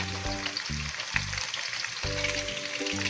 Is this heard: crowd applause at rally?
no